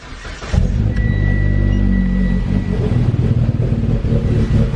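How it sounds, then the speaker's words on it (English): A car engine with aggressive cams cold-starts and settles into a loud, lumpy idle, with a deep, uneven rumble continuing steadily up close with no talking. "quick little cold start for the guys to hear"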